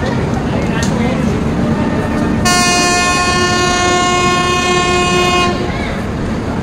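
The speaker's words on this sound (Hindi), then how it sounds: "हमारी ट्रेन 9:41 में खुल गई" Kalinga Utkal Express train at a station platform sounding a loud, sustained horn for about three seconds, set over steady rumbling rail and station noise.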